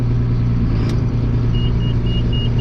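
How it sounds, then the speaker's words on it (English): At a soybean harvest, a tractor-driven grain auger runs with a deep, constant mechanical rumble and drone. The sound is loud and close, with a faint intermittent high whine riding on top. "let's see how she does on the auger"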